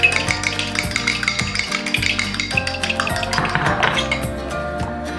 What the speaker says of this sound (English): I have 1 egg that I'll beat lightly.